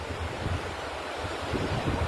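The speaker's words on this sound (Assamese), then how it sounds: "ইমান ধুনীয়া বতাহ বলি আছে" Steady wind blows across a mountainside in Arunachal, a loud continuous rushing roar that fills the whole stretch, with microphone buffeting and no voices.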